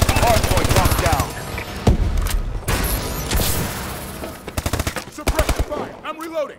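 Rapid automatic gunfire from the Call of Duty Advanced Warfare video game crackles in dense bursts alongside explosions and mechanical clatter, with in-game voices calling out over the combat.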